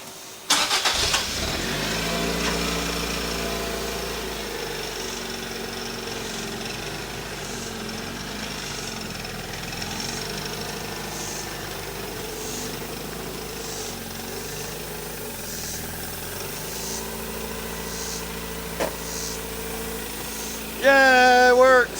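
A Toyota MR2 AW11 with 46k miles, long abandoned, cranks and catches near the start, then idles steadily for about twenty seconds with a slightly uneven mid-pitched engine note, rising briefly louder at the end.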